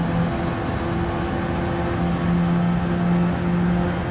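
An Alfa Romeo 4C Gr.4 race car in Gran Turismo 7 on the Trial Mountain circuit holds a loud, steady, high-revving engine drone for the whole stretch, with no one talking.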